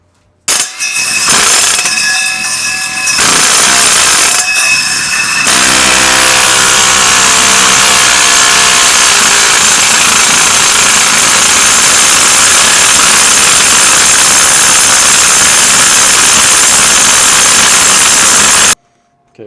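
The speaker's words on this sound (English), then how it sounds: "an impact just doesn't have the strength or the torque that's really needed to push a hole saw this big" A cordless impact driver strains to push a large hole saw during a DIY bathroom remodel, a loud continuous whirring grind that runs steadily for most of the stretch after a few brief starts and stops, with no talking.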